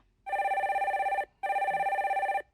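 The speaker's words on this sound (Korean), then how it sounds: "전화 연결해 주세요." Two long electronic telephone rings, loud and close, on a line being connected to a call-in caller, each burst lasting about a second with a short gap between.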